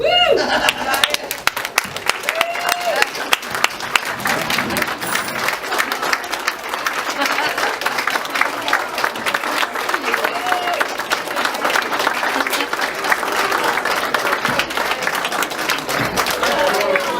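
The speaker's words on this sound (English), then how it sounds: "Please rise and clap." An audience at a campground murder mystery event claps and applauds continuously, dense and fairly loud, with voices and some cheering mixed in throughout.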